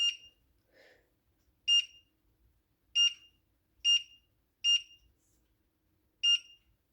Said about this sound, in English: the alarm just went off